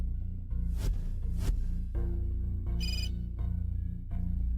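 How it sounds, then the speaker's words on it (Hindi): A mobile phone ringtone plays loudly and steadily as a melodic, repeating ring over a low backing, with no talking. "यह किसका फोन है?"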